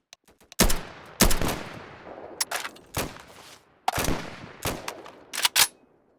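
Video game gunfire crackles in sharp, separated bursts and single shots, some loud and close, with decaying echoes between them and no talking.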